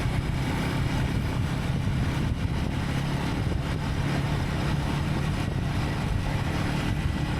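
A motorbike ridden at a steady pace, its engine giving a continuous low drone mixed with wind rush, close and loud throughout with no talk.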